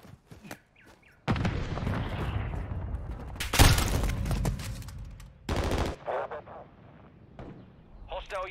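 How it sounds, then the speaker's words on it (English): Gunfire and explosive blasts crash through a Call of Duty Modern Warfare 2 multiplayer firefight, with a loud burst near the middle among bursts of shooting, as in-game voices call out over the action. "Troops in contact! Grenade out!"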